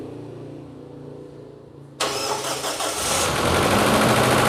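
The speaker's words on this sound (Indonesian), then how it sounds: "dari mesin sudah bisa hidup kembali" A freshly assembled Toyota Innova petrol engine turns over and catches at about two seconds, jumping from a quiet background into a loud, steady, close-up run that holds to the end without speech.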